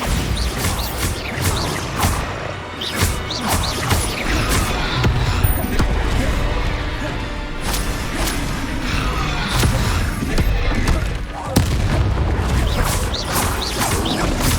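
Bombarda spell explosions in the video game Hogwarts Legacy, heavy blasts and crashing impacts repeating through a dense, continuous wash of combat effects and background game sound, loud throughout.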